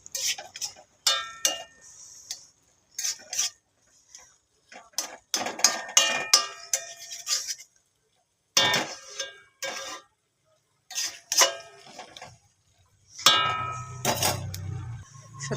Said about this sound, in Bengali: আলুটা দিয়ে ভালো করে নেড়ে নিলাম।